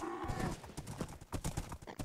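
Horse hooves clip-clop in the Minecraft video game, a quick uneven run of close hoofbeats with a horse whinny mixed in.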